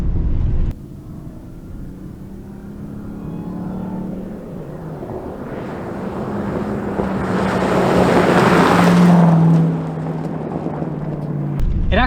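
A Ram TRX pickup truck's engine swells under heavy compression braking while off-road, rising to a loud rushing roar and then easing off, with wind buffeting the microphone.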